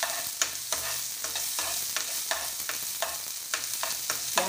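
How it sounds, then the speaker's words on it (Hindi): Chopped onion frying in a pan while being stirred, a fairly quiet sizzle broken by regular scraping strokes of a spoon, close and rhythmic. "दोनों को हम भून लेंगे।"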